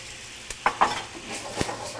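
Jack Daniels whiskey hits a hot skillet and gives a short burst of hissing sizzle with a couple of sharp clinks, then settles into a low steady crackle.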